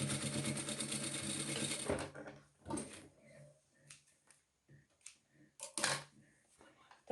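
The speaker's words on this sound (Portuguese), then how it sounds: "Então, ó, meu forro eu costurei aqui." Sewing machine stitching the fabric lining of a mask pouch, running in a loud continuous burst for about two seconds, then stopping, followed by scattered handling clicks and rustles nearby.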